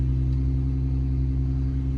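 A Jeep Wrangler engine idling close by, a loud, steady low humming drone with even harmonics and no change in pitch across the short stretch.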